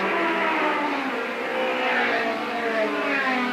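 Saloon race cars in the 1969 championship at Crystal Palace Circuit, engines roaring loudly and continuously as the pack bunches through a right-hand bend.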